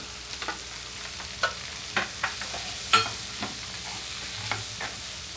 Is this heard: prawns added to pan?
yes